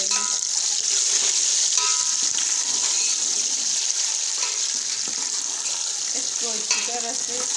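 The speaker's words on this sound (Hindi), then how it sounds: "अब हम इसमें ये आलू डालेंगे।" Potatoes frying in oil in a pan while making egg and potato pulao, a steady close hiss of sizzling with occasional stirring scrapes and clatter, no talk.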